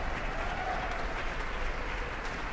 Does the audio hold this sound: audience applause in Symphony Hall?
yes